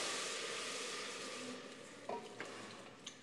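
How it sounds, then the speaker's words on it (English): Chicken and rice sizzling in a pan during a kids' cooking lesson, a soft hissing fry that fades, followed by a few faint scrapes and clinks of stirring. "I hear a sizzle."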